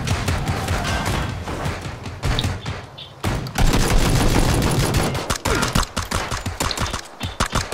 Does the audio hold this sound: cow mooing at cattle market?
no